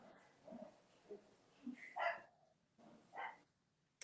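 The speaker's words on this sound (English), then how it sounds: "she's barking her brains out" A few faint, distant dog barks and yips spaced out over a quiet background.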